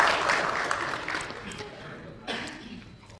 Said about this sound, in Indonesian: Tepuk tangan dulu buat Ibu Ega.